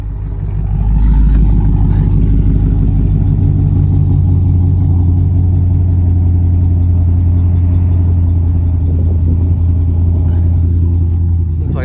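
An SSV Redline ute's exhaust rumbles loudly and deeply close by, holding a steady throaty drone with slight swells in engine pitch.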